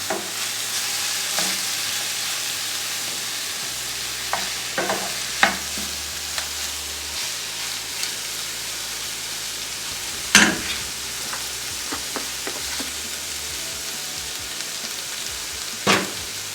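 Poha (flattened rice) frying in a pan, giving an even, hissing sizzle throughout with occasional sharp scrapes and taps of the stirring spoon, close by, over a low steady hum.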